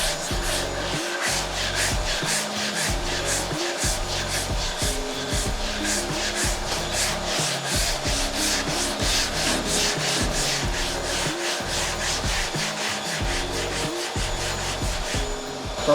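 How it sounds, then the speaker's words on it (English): Body filler on a Ford XC Falcon panel van is sanded with 80 grit sandpaper in fast, rhythmic back-and-forth strokes, a close, continuous scratchy rasp with no talking. "So I'm just going to use the 80 grit to take pretty much the top edge off it."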